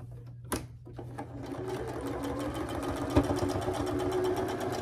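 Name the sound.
sewing machine stitching a quilt block seam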